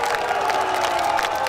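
A crowd at an outdoor concert applauds and cheers for the band, a dense continuous roar of clapping and shouts, loud and close throughout.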